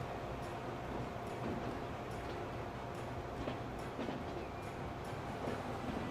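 A freight train pulls out in the rail-building game Transport Fever 2, heard as a faint, steady rolling rumble with regular clicks of the wheels on the track and no voices.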